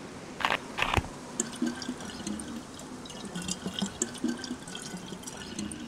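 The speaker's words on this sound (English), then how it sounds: "Fill that up with fresh water." Fresh water is poured into a water bottle in the DayZ video game, a quiet gurgling, trickling fill with a couple of sharper splashes near the start, heard alone against soft background noise.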